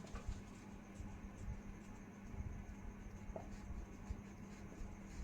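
Pen or chalk writes out an equation while a class 10 maths problem is worked, faint scratchy strokes in short bursts over a quiet room with a low hum.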